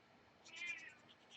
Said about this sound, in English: My apologies, that's just my cat.